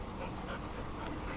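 A dog pants steadily and close by in a home, a continuous breathy rhythm with no talk over it.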